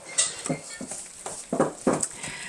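Cookie dough for peanut butter cup cookies being creamed in a bowl: a utensil scrapes and clinks against the dish in irregular strokes, close and clear, with no talking.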